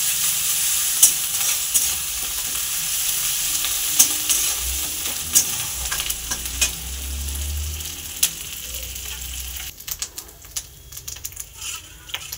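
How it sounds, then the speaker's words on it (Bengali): Onion and ginger paste fries in a pan with a steady hiss, while a spoon stirs it in sharp, irregular scrapes and taps, and a soft low rumble swells midway. "এর ভিতরে এবার আদা বাটাটা দিয়ে দিলাম, ওটাও একটু ভালো করে নেড়ে নেব"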